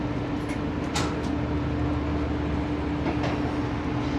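The Shalimar Express pulls slowly out of Rohri Junction, giving a steady low rumble with a constant hum and a few faint metallic clicks and squeaks, close and continuous, with no voices.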